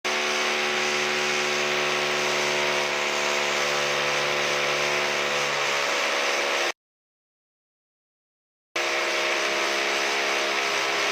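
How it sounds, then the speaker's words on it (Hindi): A power drill bores into a wall to fix an angle bracket for a split air conditioner's outdoor unit, giving a loud, steady, humming whine that cuts out completely for about two seconds and then resumes. "मार्किंग करने के बाद आपने ड्रिल करना है।"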